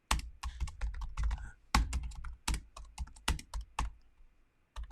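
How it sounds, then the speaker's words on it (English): Keys clatter on a computer keyboard while someone types in a writing app, with rapid clustered keystrokes in bursts and brief pauses, close and clear with no talking. "So we can type in all sorts of things if we want to."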